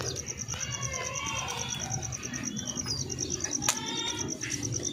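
Pigeons in a loft coo low and steady beneath a busy backdrop of chirping small birds, with an occasional wing flap and faint talk.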